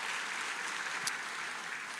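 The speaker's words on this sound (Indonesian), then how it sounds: "Berikan tepuk tangan kita untuk Tuhan kita" A congregation claps together in church, a dense, even wash of applause lasting throughout, fairly close, with a brief sharp accent near the middle.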